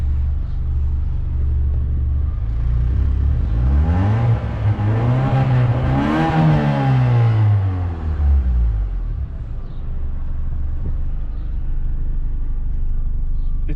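A Honda EF sedan engine revs up to a loud, rising roar and then winds back down to a low idle rumble, heard nearby from outside.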